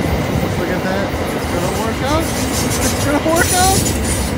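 A train rolls past nearby with rail cars clattering over the track and faint wheel squeals, a steady rumble running under excited talk from people watching.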